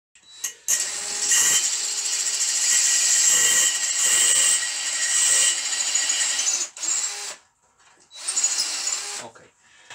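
A power drill with a 7.5 mm bit bores a pilot hole for a screw through a long metal guide rail. It whirs loudly and steadily in long runs, stops briefly, then starts again for a second burst.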